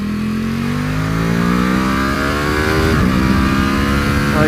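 An Aprilia Tuono 1100 Factory motorcycle engine revs and pulls hard, pitch climbing steadily with a brief drop at a gear change, loud and close, with a few words spoken over it.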